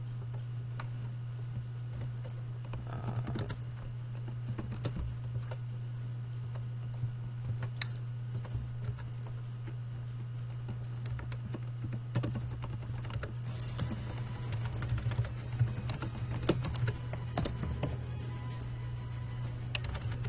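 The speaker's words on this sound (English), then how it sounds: "I'm typing." Typing on a computer keyboard, rapid irregular clicks and taps close by, continuing in bursts over a steady low electrical hum.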